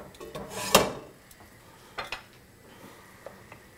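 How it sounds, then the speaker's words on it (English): A spoon scraping and knocking in a pot while stirring noodles, chunks of hamburger and seasonings, one sharp clank followed by softer scrapes and taps, close and quiet with no talk. "stir in those noodles really good. And the chunks of hamburger and all those seasonings"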